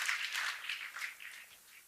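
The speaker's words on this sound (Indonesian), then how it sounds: "Kasih tepuk tangan yang terbaik bagi Allah kita" Congregation applauding during a church worship service, a steady wash of many hands clapping at moderate distance, sustained evenly with no voices on top.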